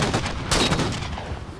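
Gunfire in the video game Halo 4 during a match against a sniper, a dense, loud burst of shots with a sharp crack partway through, no voices.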